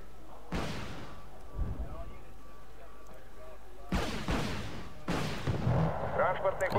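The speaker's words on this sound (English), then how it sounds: "The artillery shots seem to be the way to go." Artillery fire in Wargame Red Dragon naval combat: three loud, separate cannon blasts, each with a long rolling rumble, spaced a few seconds apart over faint background ambience.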